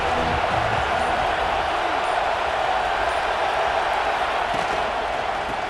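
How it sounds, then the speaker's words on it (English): A dense stadium crowd roars in EA Sports College Football 26, a steady, loud wall of broad cheering noise that holds unbroken with no distinct voices standing out. "This crowd ready to make its presence known."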